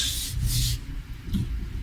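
Close, scratchy sanding of a wooden guitar neck in a few quick back-and-forth strokes, soft and rasping, with no voices.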